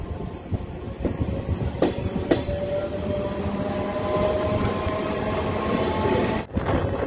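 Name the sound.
passenger train running on rails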